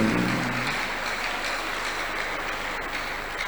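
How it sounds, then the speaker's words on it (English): A church congregation clapping hands together, a dense continuous wash of claps at steady loudness throughout, with no voices standing out. "Shall we truly clap our hands unto the God of the chosen?"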